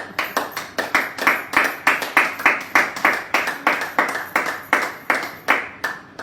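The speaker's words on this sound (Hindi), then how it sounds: "वीडियो चालू हुआ तो आप ताली बजाइए" Hands clap in a loose, steady rhythm, about a dozen and a half close, loud claps in quick succession, each with a short decay, from a small group cheering in a Hindi-speaking gathering.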